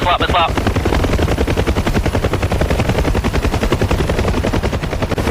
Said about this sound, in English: Missile out.